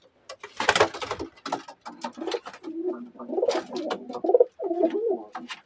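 A pigeon coos nearby in a series of soft, throaty, rolling calls, with short pauses between the phrases.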